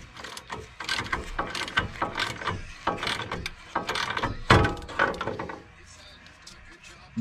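Ball joint separator working on the front suspension of a 2023 Nissan Frontier: a run of sharp metallic clicks and ratcheting knocks with uneven rhythm, close and fairly loud, fading to a quieter stretch near the end.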